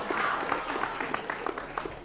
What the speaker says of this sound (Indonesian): Imu Gopal, tepuk tangan